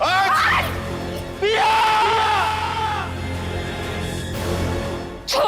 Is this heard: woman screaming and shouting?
yes